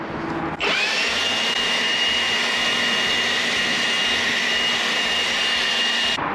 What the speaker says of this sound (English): You can also accelerate the drying if you've got a blow dryer